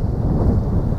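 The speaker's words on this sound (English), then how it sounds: "It's a windy day" Wind buffets the microphone at an outdoor shooting range, a steady low roaring rumble with no other distinct sounds.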